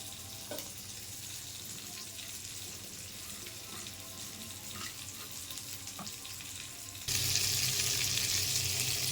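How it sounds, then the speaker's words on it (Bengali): Continuous sizzling of cauliflower and potato frying in hot oil, with a few faint clinks, growing louder and brighter toward the end. "ফুলকপি আলু একটু ভেজে নিতে হবে তেলে"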